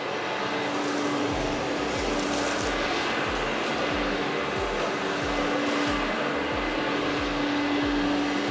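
A Bosch Serie 2 16V Max cordless stick vacuum cleaner runs with a steady motor whine and airflow rush, broken by a regular series of low thumps or pulses throughout.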